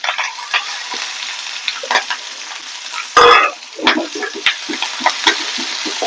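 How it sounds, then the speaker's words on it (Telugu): Dried red chilies, a large onion and curry leaves sizzle steadily in a pan of tempering oil for a broad bean and tomato curry, with a spoon scraping and stirring through it and one louder burst midway. "తాలింపు దోరగా యాగనిద్దాం."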